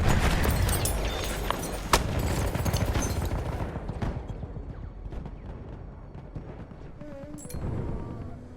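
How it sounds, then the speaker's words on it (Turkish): Battlefield 1 combat on the Suez Canal map, with a thrown grenade going off amid dense gunfire and booming blasts, loud and chaotic, then easing into quieter distant shots and clatter. "Bomba atıyorum."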